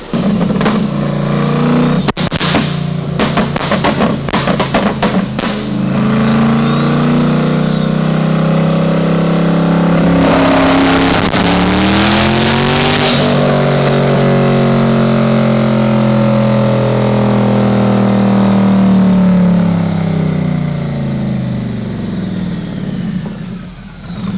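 A built twin-turbo C8 Corvette with a new camshaft runs a dyno pull, a loud, sustained engine note climbing steadily in pitch over many seconds after some rough blips, then easing off at the end.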